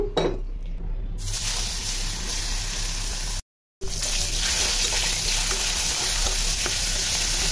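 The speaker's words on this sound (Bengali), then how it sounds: "এখন এই যে পাঙ্গাস মাছটা ভেজে নিব সিম টমেটোর জন্য।" Pangas fish sizzling in hot oil in a pan, a steady loud fry with faint utensil scrapes and a brief dropout in the middle.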